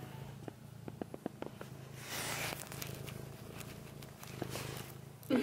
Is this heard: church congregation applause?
no